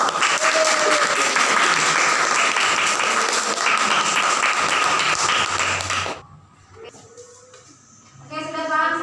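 A classroom of students claps together in a loud, dense burst for about six seconds. The applause then cuts off abruptly, and a voice speaks over quieter room sound.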